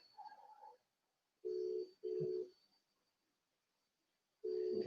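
A telephone call being placed: a faint dialing tone, then repeated steady electronic ringback tones in evenly spaced bursts, with a quiet electronic whine throughout.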